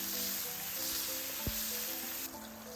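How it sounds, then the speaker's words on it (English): Mushrooms stir-frying in hot oil in a wok over high heat, a steady close sizzle with a brief clunk of the utensil partway through, no voices. "add 3 tablespoons oil and toss the mushrooms. Keep the fire high and stir the mushrooms"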